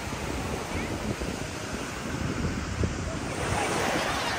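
Steady wash of surf breaking on a sandy beach in Crete, a broad continuous roar with wind buffeting the microphone, swelling slightly toward the end with no talk.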